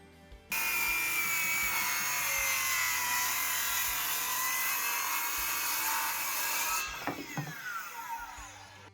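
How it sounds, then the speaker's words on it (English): A 7 1/4 inch circular saw rips through a long cut in wood for a loft ladder, its loud steady whine running several seconds before winding down near the end, with no talking. "I got my 7 1/4 inch circular saw out, setting it to the correct depth, and I'm going to cut it."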